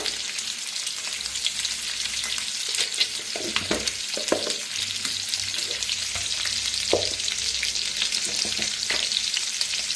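Eggs fry in a pan over lowered gas heat with salt just added, giving a continuous sizzle with scattered crackles and a few stirring scrapes, and no talking.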